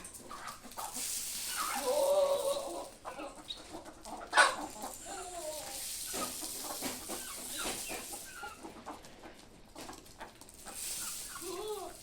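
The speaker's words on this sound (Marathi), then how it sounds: "आता कोंबड्या एक एक एक जमा होत आहेत" Hens cluck and murmur close by in a scattered, ongoing chorus, with a sharper squawk partway through and soft rustling around them.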